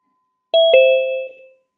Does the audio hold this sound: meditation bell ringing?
yes